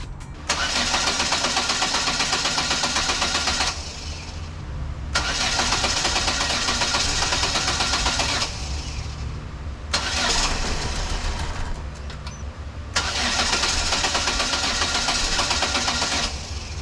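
A Chevrolet Sonic car engine cranks repeatedly with strong, steady starter whirring in several long bursts separated by short pauses, loud and close, without catching into a clear idle.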